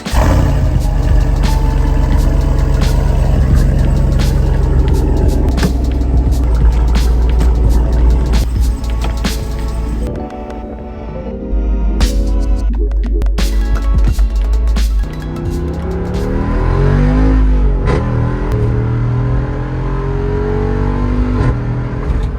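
A 2-door Jeep driving off-road, engine droning and revving under load with shifting pitch, plus intermittent knocks and rattles from the body, close and continuous for over twenty seconds.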